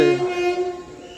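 Train pulling out of Bidar station, its horn blaring loud and close in one sustained tone that fades over about a second, with no voices.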